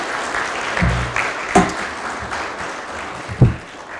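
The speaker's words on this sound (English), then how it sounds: "I think they need another round of applause to be multiple-time award winners" Applause from an audience honoring award winners at a county STOP DWI awards presentation, a short burst of clapping with a few louder claps, fairly close.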